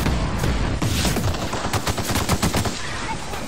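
A weapon in The Outer Worlds fires in a rapid burst of loud, close shots, then a second flurry of sharp cracks over about three seconds.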